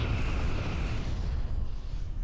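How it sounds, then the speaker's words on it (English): Loud, rumbling video game explosion with a sharp burst at the start that settles into a broad, crackling roar, filling the whole stretch without any talk. "I meant I was standing next to the explosion"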